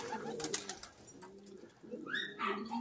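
Pigeons coo close by in soft, low, repeated throaty calls, with some rustling and higher chirp-like sounds mixed in during the second half.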